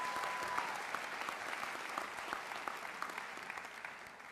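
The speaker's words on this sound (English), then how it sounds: "Let's have a round of applause for our faculty and staff" Sustained applause from a school audience honoring faculty and staff at a middle school moving-on ceremony, a dense steady patter of many hands clapping throughout with a faint tone early on.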